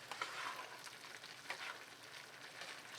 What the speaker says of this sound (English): sauce cooks in well, cauliflower cooks down, everything gets cooked together